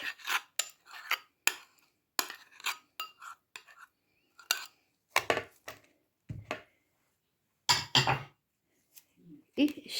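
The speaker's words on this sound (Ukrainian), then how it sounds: "Все це ложечкою отак перемішуємо." A spoon mixes sugar, vanilla sugar, softened butter and curd in a bowl for cookie dough, giving a string of close, crisp clinks and scrapes in short bursts, with brief silences between them.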